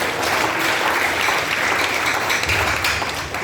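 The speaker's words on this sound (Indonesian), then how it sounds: "Boleh tepuk tangan buat tim yang melayani." A church congregation at a Christmas service claps together in sustained, dense applause, loud and steady throughout, with no voices rising above it.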